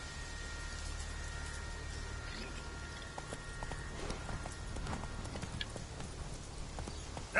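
Roach the horse walks in The Witcher 3 video game, hooves clip-clopping in a steady, moderately quiet rhythm over soft ambient background.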